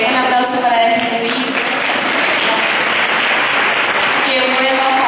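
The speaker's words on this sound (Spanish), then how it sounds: "Un aplauso para despedir." Attendees at a parents' school event give sustained, loud applause that carries on steadily, with some talk and a faint tone underneath.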